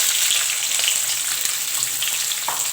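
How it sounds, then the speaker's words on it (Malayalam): Cubed onion and capsicum sautéing in hot oil for a restaurant-style kadai mushroom masala, a continuous bright hissing sizzle with a few faint stirring clicks, close and steady, with no talk. "ക്യൂബ്സായി അരിഞ്ഞ ഉള്ളിയും ക്യാപ്സിക്കും കൂടെ 1-2 മിനിറ്റത്തേക്ക് വഴറ്റിയെടുക്കാം"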